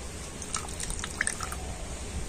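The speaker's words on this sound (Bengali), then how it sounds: "এবার ছানাটা কিন্তু খুব ভালো করে এইভাবে নিগড়ে নিতে হবে" Water drips from freshly washed chhena being squeezed by hand, a few faint scattered drips and trickles over a low background hum, with no voices.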